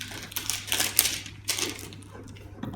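Plastic film is peeled and crinkled off a new reverse osmosis unit for a reef aquarium, a close, continuous crackling and rustling with brief louder crinkles throughout.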